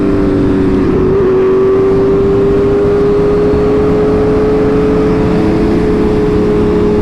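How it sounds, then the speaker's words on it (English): A brand new green HP4 motorcycle engine drones loudly and steadily nearby, its pitch creeping slightly upward as the revs build, with no speech. "Clean bike. Brand new HP4."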